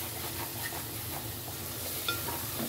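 Spicy masala for egg biryani stirred and fried in oil in a pan, a steady close sizzle with soft scraping and stirring sounds running throughout.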